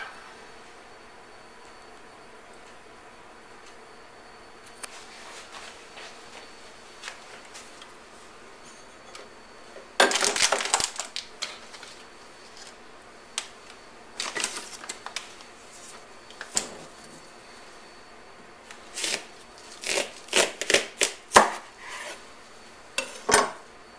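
A knife cuts open a small homegrown watermelon: quiet scraping and cutting at first, then a burst of crisp cracking and a run of sharp clicks and taps near the end, close and without talk.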